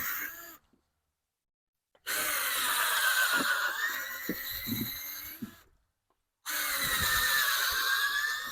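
A drill bores into wood in two sustained, whining runs separated by a silent gap, close and loud with no speech.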